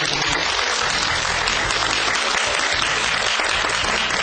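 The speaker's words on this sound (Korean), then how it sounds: "오늘 이 시간 좋은 말씀 들려주신 한국천문연구원 원장 박석재 원장께 다시 한번 큰 박수 부탁드립니다." Sustained loud applause from a large lecture audience, dense and even throughout with no talking over it.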